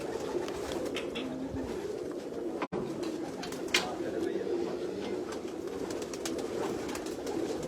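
Racing pigeons perch close by, cooing in soft repeated calls over a low background murmur, with a brief click or handling noise partway through.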